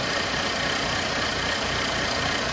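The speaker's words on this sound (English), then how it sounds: "So I'm just gonna go stop the engine" Steady broadband idle of a Mercedes-Benz C250 engine with an oil leak, a continuous even rumble with a faint knocking texture, close and loud with no voices.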